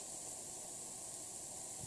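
Lentil patties fry in a pan with a soft, steady sizzling hiss that stays even and faint throughout, with no talking.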